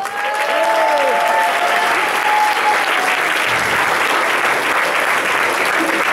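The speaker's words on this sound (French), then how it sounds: "Mais avant, bien sûr, on peut applaudir le jury, Dawan Player." Audience applause for the jury at a beatbox event, a loud, continuous wash of clapping from a crowd lasting the whole stretch, with faint voices and whistles over it.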